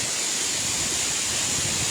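Broad, wide tufa waterfall at Baume-les-Messieurs, fed by the Dard resurgences, roars as a steady, dense wash of falling water, close and unbroken, with no voices.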